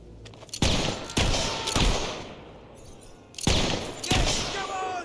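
Enemy gunfire in the video game Fable 3, with loud, close, rapid shots arriving in two clusters separated by a brief lull, heard without talk.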